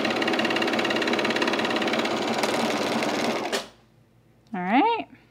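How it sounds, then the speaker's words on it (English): An overlocker serges chino pants fabric in one fast, rattling mechanical run of about three and a half seconds that stops abruptly, followed by a brief voice. "so I'm gonna overlock this."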